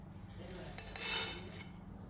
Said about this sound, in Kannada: ಮೆಣಸು, ಕಾಳು ಮೆಣಸು, ಜೀರಿಗೆ, ಎಲ್ಲ ಕೊತ್ತಂಬರಿ ಎಲ್ಲ ಒಟ್ಟಿಗೆ ಹಾಕ್ಕೊಂಡು ನಾವೀಗ ಇದನ್ನು ಡ್ರೈ ರೋಸ್ಟ್ ಮಾಡ್ಕೊಳ್ಳೋಣ